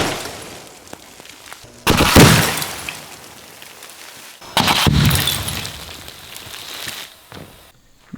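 An aquarium shatters when an aluminum cable setup explodes: two sudden loud blasts of breaking glass and splashing, each followed by a scattering crash of debris, then a fade to quiet.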